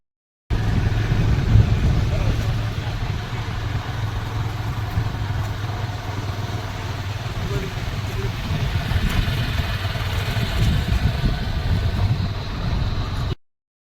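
A vehicle engine runs steadily with a low, continuous hum while driving up the road to a hilltop Mahadev temple, holding an even level throughout with no other clear sounds.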